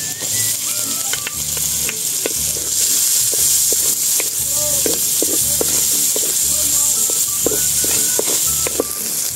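Garlic sautéing in leftover frying oil in a pan, a loud, steady close sizzle with rhythmic scraping and tapping as it is stirred.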